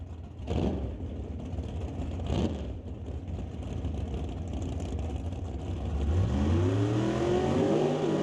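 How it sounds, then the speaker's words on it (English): A pair of 1967 Chevy drag cars rev through burnouts at a drag strip, with quick engine blips early on, then a rising, revving roar near the end, heard from a distance. "Next pair got the burnouts done. Couple of Chevys."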